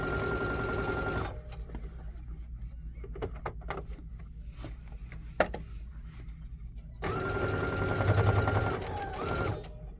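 A sewing machine stitches a fabric wine bag in two loud, steady runs at the start and end, with a quieter gap between filled with faint handling clicks and knocks.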